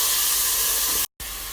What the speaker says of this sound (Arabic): حطيت الزيت حار، وهذا البصل المفروم بحمسه